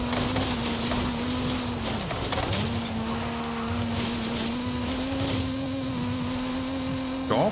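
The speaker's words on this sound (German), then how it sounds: "Ja, fährt sich gut im Gelände, das tiefer gelegte Auto, so wie es sein soll." A lowered car driving off-road in the racing game Forza Horizon 5, with an engine drone that holds steady, dips briefly as the revs drop, then climbs again under a constant rumble.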